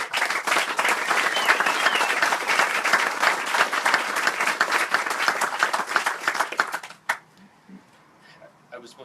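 An outdoor audience at a groundbreaking ceremony for an agricultural education center applauds, dense steady clapping for about seven seconds before fading out abruptly into quiet.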